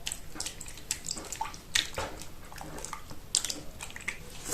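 Sourdough starter being dissolved in water for a whole-grain loaf, heard as soft, wet squelching and splashing with small irregular clicks and drips. It is faint and close, with no speech.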